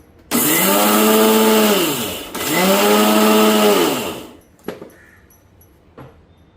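A mixer grinder grinding sesame seeds whirs loudly in two long bursts, its pitch rising as it spins up and dropping as it stops, followed by a couple of clunks.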